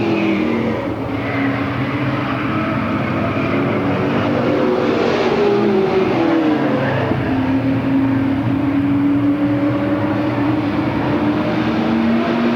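Stock cars racing laps at Lakeport, California, during the 1993 Octoberfast event: a continuous loud, layered engine roar with shifting pitch as cars pass around the track.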